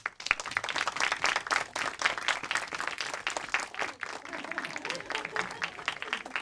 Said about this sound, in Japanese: ではゲストの皆さんを拍手でお迎えください